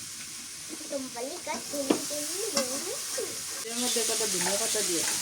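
Vegetable bhaji with garlic paste fries in a pan in a village kitchen, giving a steady close sizzle broken by stirring scrapes while someone talks over it.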